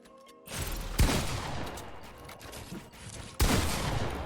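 Gunfire in a Fortnite box fight arrives as two sharp, loud shots about two and a half seconds apart, each followed by a noisy rush of game sound and rumble, with no voice over them.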